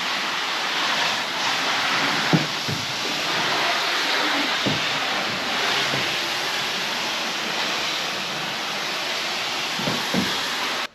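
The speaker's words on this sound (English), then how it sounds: "Just going to rinse it off in the garage here." A car is hosed down with water inside a garage, giving a steady broadband rush of spray that swells and eases, with a few soft knocks and splashes against the body.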